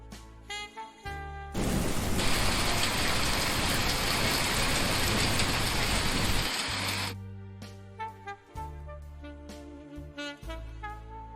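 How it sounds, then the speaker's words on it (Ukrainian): A heavy rain downpour roars in suddenly, a dense steady wash of drops that lasts several seconds, then cuts off abruptly. "Злива це сильний дощ, під час якого краплі падають швидко-швидко."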